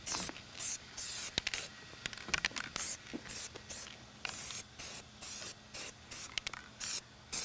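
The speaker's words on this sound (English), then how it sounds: "Keep the can moving in sweeping motion." An aerosol can sprays dye onto a leather seat in short sweeping passes: about a dozen close, crisp hissing bursts separated by brief pauses, with faint handling noises between them.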